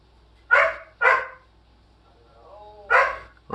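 A dog barks in short, loud bursts, four sharp barks spaced over a few seconds with a brief whine in between, while fireworks are going off outside.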